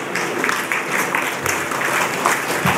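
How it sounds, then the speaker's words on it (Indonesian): An audience claps in a steady burst of applause that stays fairly loud and even throughout, with no voices standing out. "Orang Terolak pun nak tepuk."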